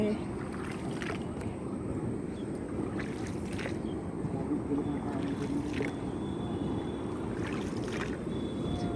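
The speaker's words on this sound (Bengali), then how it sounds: "আমরা নৌকায় উঠে পড়েছি নৌকা আবার যাবে" Steady water lapping and low rumbling as a rowing boat moves across a river, with wind noise and occasional faint knocks; no clear voices.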